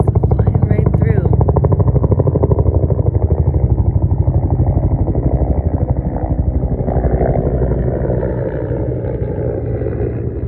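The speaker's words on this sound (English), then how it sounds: "massive helicopter coming in right now" A military helicopter flies overhead with a strong, steady rotor beat that throbs loudly throughout and eases slightly toward the end, while someone talks over it.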